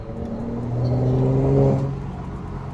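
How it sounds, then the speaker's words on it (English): Steady engine hum of a Mercedes-Benz SL450 rising and easing off, with a faint whooshing turbo whir and low exhaust burble on lifting off the gas, heard from inside the car at speed. "you can hear a little bit of the turbo noise, a little bit of a burble when you let off the gas"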